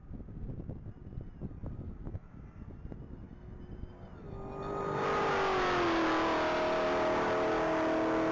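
A white 2023 Hennessy Dodge Charger Hellcat with a 1,000-horsepower supercharged engine races at a mile-long top speed event, rumbling and clattering before a loud, steady, rising engine roar takes over with strong wind noise.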